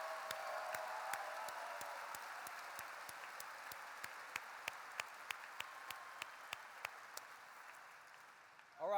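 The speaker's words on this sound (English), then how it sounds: "If we could clap our hands, make some noise, and show them the love that they deserve" Large convention hall crowd at the Illinois FFA State Convention applauding the FFA staff, a dense, distant wash of clapping with a few sharper individual claps standing out, steady throughout before cutting off at the end.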